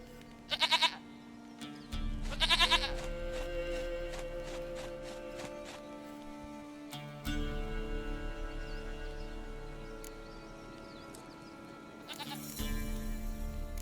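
Goat bleats from The Witcher 3 video game, several loud wavering calls in short bursts separated by quieter game ambience and a steady low hum, with no one talking.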